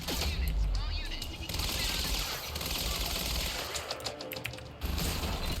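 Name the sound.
advanced SMG gunfire in the video game Quantum Break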